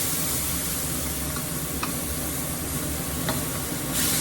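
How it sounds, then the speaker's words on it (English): Ginger, garlic, fermented black beans and Shaoxing cooking wine hit a hot pan with a loud, continuous close-up sizzle, with a few faint clicks near the end. "I'm adding in my mixture that has the ginger and garlic and fermented black beans with Shaoxing cooking wine"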